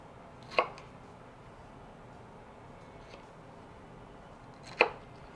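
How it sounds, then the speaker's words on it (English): A knife chopping pineapple into small pieces on a cutting board, with two distinct sharp cuts spaced several seconds apart and quiet room tone between them. "I'm going to cut small pieces."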